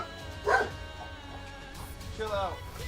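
A dog lets out a couple of short yipping barks, one near the start and another toward the end, close by and moderately loud, with a voice around them.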